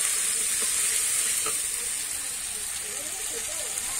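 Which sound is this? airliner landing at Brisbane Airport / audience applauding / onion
onion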